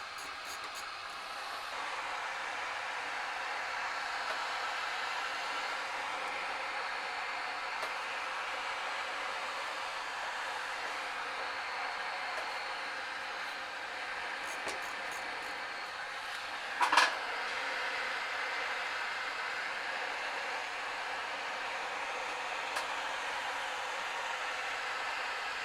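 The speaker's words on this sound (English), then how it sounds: "I'm just going to use my heat gun right here" A heat gun blows continuously over a 40-inch smart TV's circuit board, giving a steady, moderate hiss of airflow with one brief knock partway through; no one speaks.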